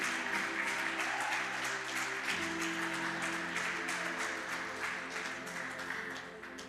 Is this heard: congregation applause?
yes